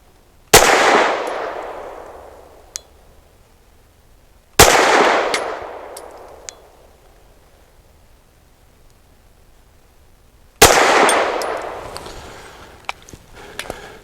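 A Taurus TS9 pistol fires three sharp, loud shots of 1776 lead-free 90-grain ammunition, spaced several seconds apart, each with a short ringing decay outdoors at a quiet range.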